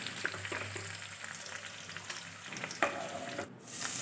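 Food frying in hot oil in a pan, with a steady soft sizzle and occasional stirring scrapes, fairly quiet and close, with no talking.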